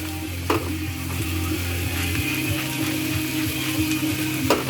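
A grinder's ratcheting clicks run steadily as salt goes onto zucchini in a skillet, over a continuous close sizzle, with a couple of brief louder knocks.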